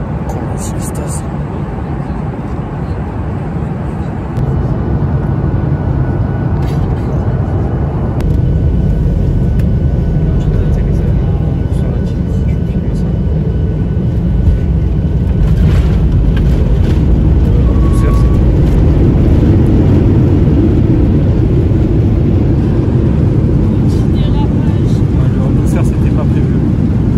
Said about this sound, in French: Ça c'est le petit avion